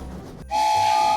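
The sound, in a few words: train chugging sound effect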